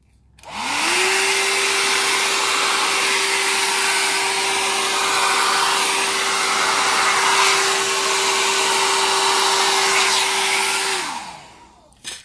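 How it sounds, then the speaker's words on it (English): A hair dryer switches on and blows steadily with a whining motor hum for several seconds, pushing paint around for a Dutch pour, then powers down. "pushes the paint around with the hairdryer"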